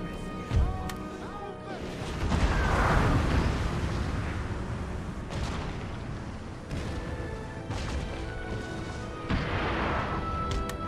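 Booming cannon blasts in Napoleon: Total War, deep heavy explosions rolling out one after another over a busy background of battle noise.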